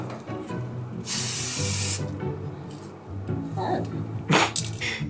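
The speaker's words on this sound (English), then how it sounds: "Once I spray a little bit, you have to stop filming and leave the room so you don't breathe it in." Aerosol spray coating hisses onto old shoji doors indoors in two sustained bursts, the first long and steady, the second shorter and louder, with quiet talk and rustling in between.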